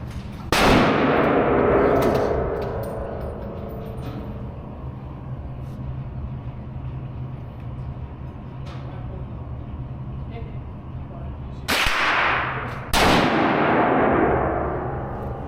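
A CZ 600 Alpha bolt-action rifle in .308 fires three sharp, loud shots outdoors, one early and two close together near the end, each ringing out, with people talking quietly in between.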